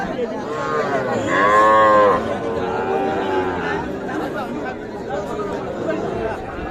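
Cattle lowing at an outdoor rural cattle market, with loud drawn-out moos close by over a steady murmur of crowd chatter and people talking.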